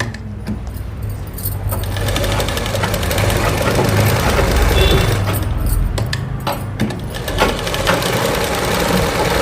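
A sewing machine stitches the lining of a blouse, its motor running in a steady continuous whir with a rhythmic mechanical knock throughout, close and fairly loud, with no talking.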